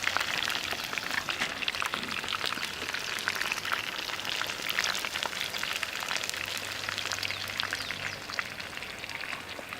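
Spiced fish sizzling in hot oil, a dense steady crackle and hiss with fine popping spatters, fairly loud and close, running on without pause and with no voices.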